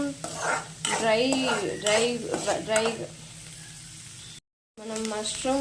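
Paneer and mushrooms roast in a hot pan for a spicy pepper dry starter, giving a soft, steady sizzle with occasional stirring and scraping. Someone talks over most of it, and the sound briefly cuts out near the end.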